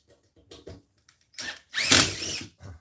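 A power drill fitted with a number 2 bit whirs in a short burst of about a second, backing a bolt out of lawn furniture seating, after a few small handling clicks and knocks.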